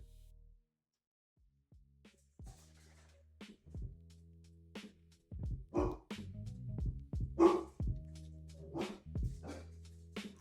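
Pet dogs barking indoors, starting with sparse yips and building into a run of louder, closer barks toward the end, with no talking.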